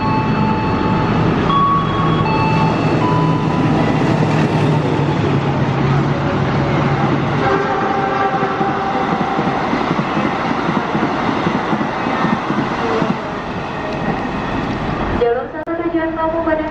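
Parahyangan passenger train passing close by, a loud continuous roar of wheels and wagons with rhythmic clatter on the rails and whining tones, easing slightly near the end.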